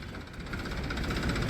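Massey Ferguson tractor engine running steadily at a sugar mill, a low continuous rumble with faint background clatter, no talk.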